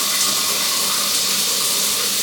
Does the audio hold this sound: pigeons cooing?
no